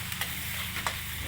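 Ginger sautés in a frying pan, a steady close sizzle with soft scraping stirs at intervals, no voices over it.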